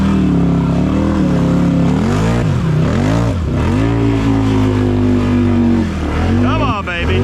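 A Can-Am 800 ATV engine revs hard in super deep mud, its loud droning pitch rising and falling in repeated surges as it churns, with people talking and cheering over it.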